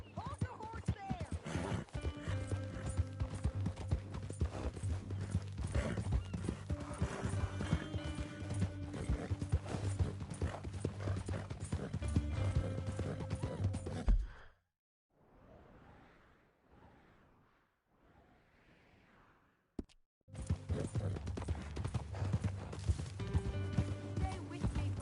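Horse hooves clip-clop steadily in Red Dead Redemption 2 under a dense music-like bed, dropping out for a few seconds of softer breathy sounds before resuming.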